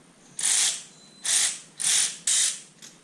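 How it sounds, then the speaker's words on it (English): A ratchet with a socket loosens the spark plug on a Triumph Spitfire, giving five short, close, raspy clicking bursts in an uneven rhythm, with no talk. "grab the ratchet, the socket, put it on, and then we'll spin it off"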